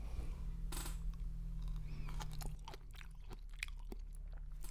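Close, quiet chewing of a brine-cooked cornichon pickle, a few soft crunchy bites and wet mouth sounds, alone without talking.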